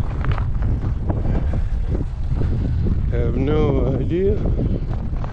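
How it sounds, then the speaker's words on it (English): Strong gusting wind roars steadily into the microphone outdoors on an icy, below-zero day with 30 mph gusts, a constant loud rumble while a person talks briefly over it. "Oh, but that wind is wicked."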